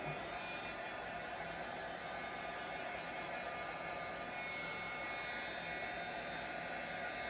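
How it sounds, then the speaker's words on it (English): A small dryer blows steadily at close range to dry water off a stencil, a constant airy whoosh with a faint motor hum, running without pause throughout. "I have a little dryer down here. Just get that little bit of water off."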